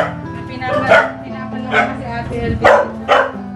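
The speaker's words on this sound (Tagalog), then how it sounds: "Galit na yung mga aso." Several dogs bark in short bursts, four or five loud barks close by, over a steady background drone.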